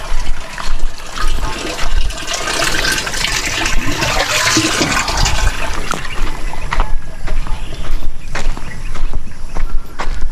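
Water poured into a container for goats to drink on a farm, a steady splashing and trickling stream running close by throughout, with occasional faint noises around it.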